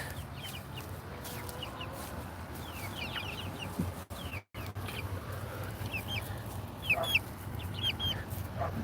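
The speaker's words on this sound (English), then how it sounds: "What are all you chickens doing?" Backyard chickens cluck and chirp in soft, scattered calls over a steady low hum, fairly distant and quiet throughout.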